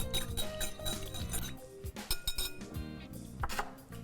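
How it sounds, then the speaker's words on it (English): Whisk clinking against a bowl while mixing a sauce with Worcestershire and Dijon mustard, quick repeated close metallic taps and scrapes. "I'm gonna whisk this together."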